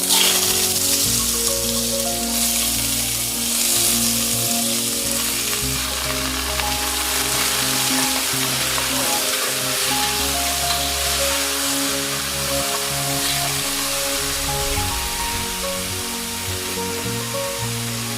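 Raw green chillies and cucumber sizzle in a frying pan for an Assamese cucumber khar, a steady, dense frying hiss that stays close and loud throughout with no talk.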